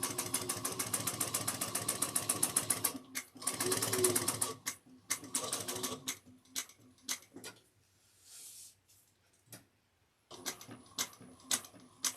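Sewing machine top stitching a backpack, rapid rhythmic needle ticking in several bursts, the first long and loud, later shorter runs separated by quiet pauses.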